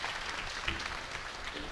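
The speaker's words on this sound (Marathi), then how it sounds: "हे टाळी वाजवण्याचं वाक्य नव्हतं." An audience at a devotional kirtan and Bhagavat katha gathering claps in a faint, dense, even patter that holds for under two seconds, heard at a distance with no voices over it.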